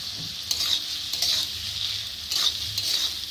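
Onions fry with a little salt in a pan, a bright steady sizzle swelling in short bursts as they are stirred, close and fairly loud with no talking.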